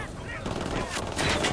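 Rapid bursts of automatic gunfire in a video game crackle in a dense, continuous stream, with sharper louder shots near the end.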